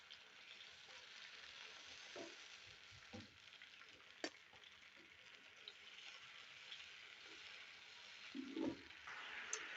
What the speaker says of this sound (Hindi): ऑयल हमारा गर्म हो चुका है तो यहाँ पे हम डालेंगे 2 टमाटरों को हमने ग्राइंड कर लिया है